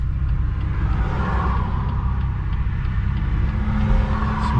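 A BMW M140i accelerates on a run, heard from inside as a steady, loud engine and road rumble with little change.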